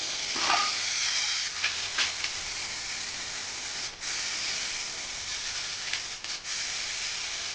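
A spray gun lays a final base coat of paint on a pickup truck in a continuous close hiss, with brief pauses and short breaks as the passes change.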